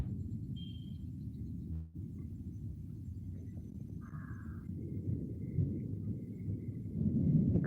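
Low rumbling thunder rolls through steady late-monsoon rain with lightning, with a brief crackle near the start and the rumble swelling toward the end.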